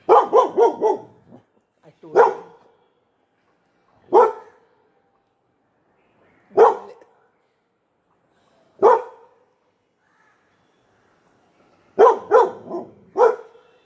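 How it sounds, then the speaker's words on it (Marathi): A pet dog barks at the watchman downstairs from an apartment building, with a quick cluster of barks at the start, then single loud barks spaced a couple of seconds apart, and a final burst of several barks. "नंतर खाली आमचे वॉचमन काका असतात, त्यांना बघून सुद्धा भुंकतो"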